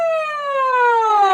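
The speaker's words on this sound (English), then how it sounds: "When you hear a siren" A police car siren wails loud and close, one steady sweeping electronic tone with rich harmonics sliding slowly downward, with nothing else heard.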